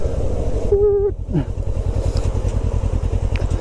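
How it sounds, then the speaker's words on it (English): A motorcycle engine idles with a rough, pulsing thrum, briefly blipped up amid a short high tone, then settles back to a throbbing idle. "A couple of nice little blasts on it, getting those revs up"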